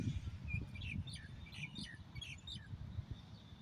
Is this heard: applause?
no